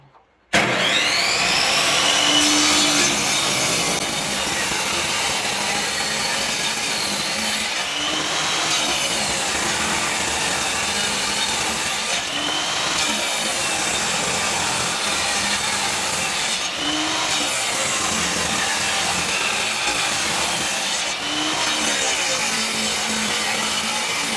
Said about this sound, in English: he's gonna rip this down on the table saw